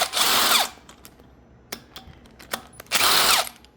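A power drill or impact driver backs out 7/16 bolts from the front of a brushless rotary vane medical vacuum pump, with two loud whirring bursts at the start and end and a few sharp clicks and handling knocks in between.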